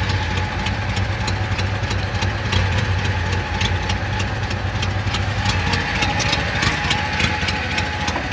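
A Chevrolet Monte Carlo engine idles after a cold start, making a steady, close rumble with a fast ticking pulse that runs throughout.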